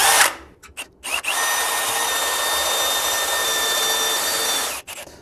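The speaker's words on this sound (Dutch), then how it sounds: "Ik gebruik hiervoor een diamantboor." A power drill fitted with a diamond bit bores through wall tile for a rain shower tap installation, starting with a few short bursts, then a steady high-pitched whine for about three and a half seconds, close and loud, with no voices.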